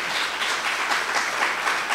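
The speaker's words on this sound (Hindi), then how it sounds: "can you clap for Jesus, जोरदार तालियां" A church congregation claps loudly for Jesus, a dense, continuous wash of many hands applauding together with no voices heard.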